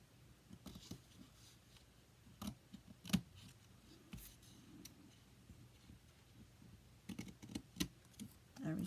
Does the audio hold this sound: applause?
no